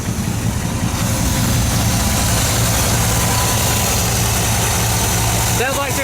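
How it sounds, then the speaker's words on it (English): A Chevy C10 pickup engine with an exhaust leak runs at a steady, rough idle, a dense rumbling drone with ticking pulses, loud and close, continuing unchanged for several seconds before a brief voice at the end. "Sounds like there's an exhaust leak down there somewhere."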